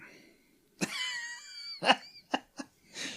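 A man coughs during a podcast recording: one rough, drawn-out hack followed by a few shorter, close-miked coughs in quick succession.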